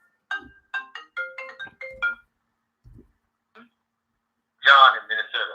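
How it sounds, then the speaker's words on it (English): A phone rings on an incoming call during a live call-in stream, a string of short bright electronic tone bursts, then after a pause a louder, denser ring or chime segment. "To accept, press 1. To send voicemail, press 2."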